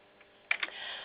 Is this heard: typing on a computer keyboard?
yes